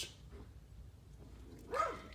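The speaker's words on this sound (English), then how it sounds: "Gotta still work on that barking thing" Dog barking, a single yip near the end of the clip, fairly faint and somewhat distant against low background noise.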